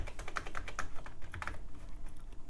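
Keys on a dirty, sticky Commodore Amiga 1000 keyboard with broken springs clack in a quick uneven burst of close taps, some keys catching, with no voices.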